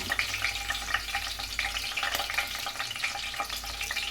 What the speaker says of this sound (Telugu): ఉల్లిపాయ పేస్ట్ ఇది కూడా వేగిపోతుంది